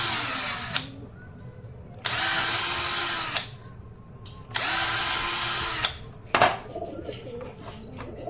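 Power drill boring holes in a metal tractor trailer bearing part in a workshop, three loud sustained whining bursts separated by pauses, with a sharp clatter near the end and faint bird cooing in the background.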